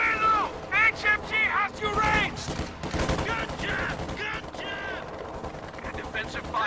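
Heavy machine gun fire in the World War II strategy game Company of Heroes 2, loud bursts of rapid shots crackling throughout under shouted soldier voice lines.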